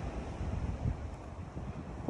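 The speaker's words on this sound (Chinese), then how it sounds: "我们到海边来了" Wind gusts and surf wash steadily at the seaside, a close, blustery roar of buffeting air over breaking waves with no voices.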